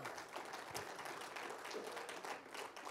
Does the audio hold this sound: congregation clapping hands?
yes